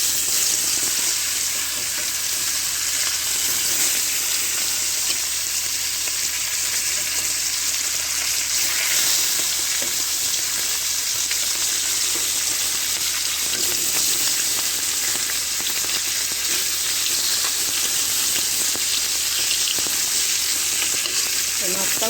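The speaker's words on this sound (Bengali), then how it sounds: "এই পায়রা মাছটা দিয়ে দেবো।" Pairah fish frying in hot oil in a pan, a loud, dense, unbroken sizzle and crackle that holds steady throughout, close up with no talk.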